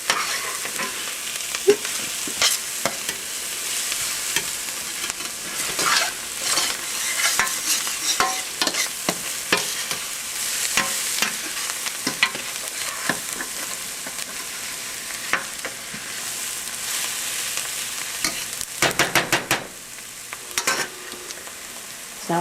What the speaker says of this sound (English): As you can see, the onions are caramelizing.